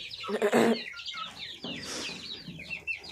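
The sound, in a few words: chicks and chickens clucking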